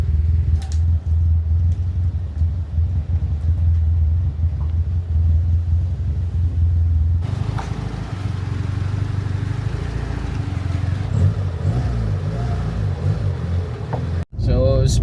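1998 Mitsubishi Lancer engine cranking and catching, then idling with a low steady rumble up close; people talk over it and a sharp click cuts in near the end.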